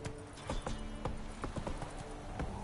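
Horse hooves clip-clop steadily in Witcher 3, a regular trotting beat of sharp knocks heard over a constant background bed of game ambience.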